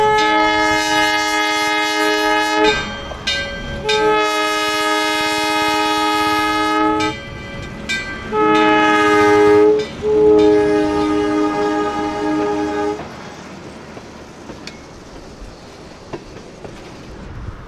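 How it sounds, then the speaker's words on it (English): A 1923 Baldwin Westinghouse steeple cab electric locomotive, number 54, working the Iowa Traction Railway near Mason City, Iowa, sounds its loud horn in several long and short blasts, then rail noise and rumble continue as the blasts stop. "a working electrified railroad in the United States"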